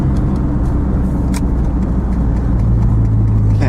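A Honda Prelude with a newly replaced alternator hums along on a test drive, a loud, steady engine drone with road rumble heard from inside the cabin, with a few light rattles.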